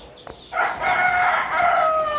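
A rooster crows loudly and close by in a poultry shed, its long call rising and holding after a brief soft cluck from the chickens.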